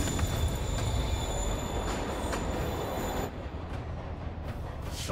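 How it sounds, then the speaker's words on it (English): A train rumbles along the track in the Marvel's Spider-Man video game, a loud, continuous roar with faint wheel squeal, easing slightly partway through, and no speech is heard. "Train moving."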